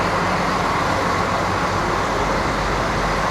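A French TER regional train, a class 73500 diesel railcar, idles at a station platform with a steady broadband engine rumble and hiss, continuous and fairly loud, with no talking.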